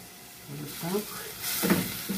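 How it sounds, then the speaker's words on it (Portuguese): Hot water goes into a hot pan holding cooked, seasoned beans with bell pepper, garlic and onion, giving a rising sizzle and bubbling hiss in two bursts, close and moderately loud, with no talk over it. "Vou colocar um pouco de água quente"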